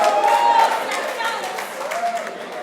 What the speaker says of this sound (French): Est-ce qu'on peut applaudir bien fort pour 1050?